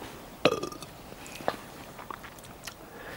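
A man burps loudly after drinking lager with curry: one strong burp, a second shorter one about a second later, then faint swallowing and mouth sounds, fairly close and with no talk over it.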